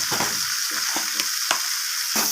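Potato and capsicum curry being stir-fried in a pan just after a pinch of sugar goes in: a constant loud sizzle broken by several sharp scrapes and clacks of the spatula, with no speech.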